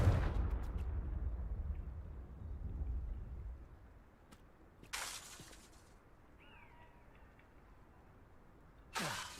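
Confringo fire spell blasts in Hogwarts Legacy, a rumbling burst at the start followed by two sharp explosive whooshes a few seconds apart, with faint background tones between them.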